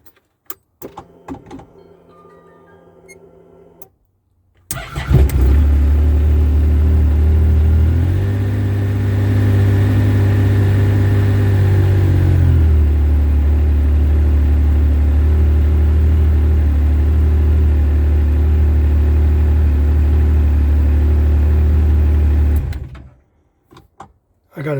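A car engine on a 250 cold cranking amp sodium ion battery cranks briefly, catches and starts, then settles into a loud, steady close-up idle that runs for most of the clip before cutting off.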